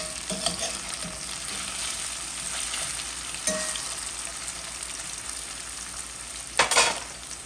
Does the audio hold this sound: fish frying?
yes